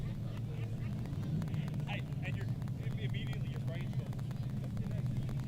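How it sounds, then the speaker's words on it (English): Injected nitro dragster firing up in the right lane at a drag strip during Saturday qualifying, a loud steady low engine roar running throughout, with an announcer talking over it. "In the injected nitro dragster, firing up on the right side of the racetrack in the redemption lane, and John Umloff"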